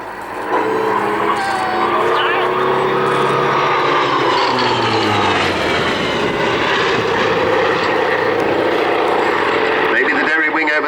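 A Royal Navy Hawker Sea Fury piston-engined fighter flies a display at RAF Cosford airshow, its loud droning propeller engine roaring steadily overhead with shifting pitch as it rolls, while a commentator talks over it.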